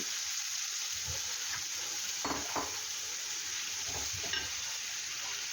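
Jackfruit seeds and spinach sizzle steadily in a hot pan, with a few louder stirring scrapes and clatters rising over the continuous frying hiss; no voices.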